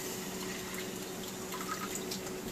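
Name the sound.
pouring water into a pan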